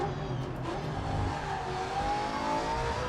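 A race car engine in GRID Legends holds a steady, high drone that climbs slowly in pitch while accelerating. It stays loud and continuous throughout, with no pauses and no voices.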